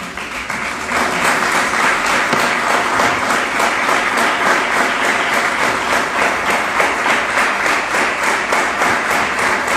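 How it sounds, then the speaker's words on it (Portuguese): A church congregation applauds loudly and steadily throughout, dense continuous clapping filling the hall from start to finish with no pause. "aplauda bem forte o Senhor"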